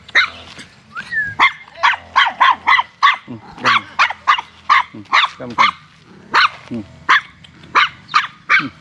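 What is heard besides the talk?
small dog barking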